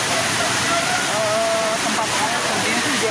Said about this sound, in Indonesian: kali ini aku posisi sudah ada di bawah air terjun atau curug Cikuluwung di Kota Bogor